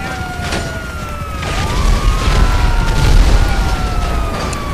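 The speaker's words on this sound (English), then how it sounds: "look at those explosions" Several booming video game explosions rumble over a steady wail of sirens, with deep low-end thuds swelling and fading across the stretch.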